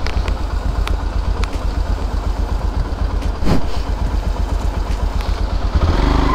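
A motorcycle engine runs steadily and loudly close by on a road full of water crossings, with a brief revving surge midway and no talking.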